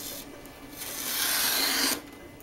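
A blade draws through a vinyl sticker sheet in one smooth cut, making a close, continuous scraping rasp that swells and then stops after about two seconds.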